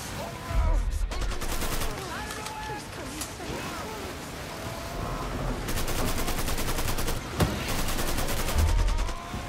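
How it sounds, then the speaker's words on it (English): Sustained gunfire from enemies in Mafia 3, dense bursts and fusillades of shots with heavy low thumps, loud and continuous across the scene, with a voice talking over the shooting. "You're all shooting from up there."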